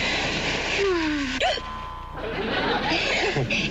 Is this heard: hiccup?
yes